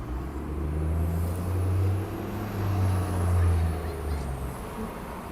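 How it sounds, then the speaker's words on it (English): A TTC 77 Swansea bus pulls in on a Toronto street, its diesel engine droning low and steady with a faint high whine overhead, mid-distance amid road traffic. "And we have a 77 Swansea bus coming in."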